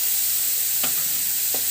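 Sliced onions and tomatoes sizzle steadily in a hot pan for a potato sandwich filling. Two quick stirring scrapes cut through the constant frying, with no voices.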